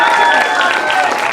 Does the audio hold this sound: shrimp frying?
no